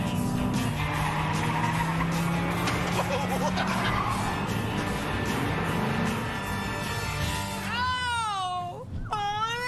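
A car driven hard through a 60 km/h slalom at a driving-skills test, engine roaring loud and steady with tires squealing in sharp rising-falling wails near the end.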